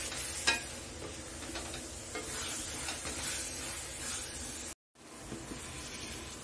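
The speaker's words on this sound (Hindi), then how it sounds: "तब तक इसको हम भून लेंगे, इसको हम अच्छे से मिक्स कर लेते हैं।" Coconut halwa being stirred and roasted in ghee in a kadai: a steady, close sizzle with continuous scraping and stirring strokes, one brief sharp clink near the start and a moment of silence before it resumes.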